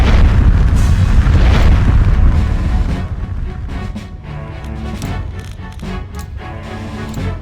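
A heavy rumbling boom from the Earthquake spell in the role-playing game Septerra Core, a loud deep blast that rolls on and slowly fades into lighter crackling impacts.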